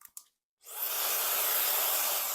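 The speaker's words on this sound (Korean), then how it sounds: "바람이 센 드라이기를 사용해 주시는 걸 추천드릴게요" High-airflow hair dryer switching on after a couple of brief clicks, then blowing as a steady, loud, broadband whoosh with no talking.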